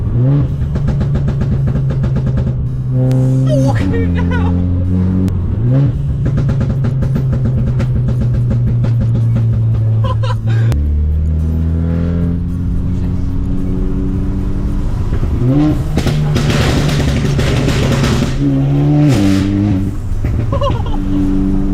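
A loud Volkswagen Scirocco engine with a pop-and-bang map revs up and down through the gears, rising and falling in pitch, with crackling exhaust pops and a brief voice at one point.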